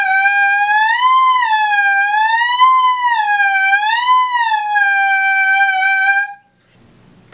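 A saxophone mouthpiece played alone holds a bright, reedy tone that bends smoothly up and down in repeated swooping waves for about six seconds, then stops.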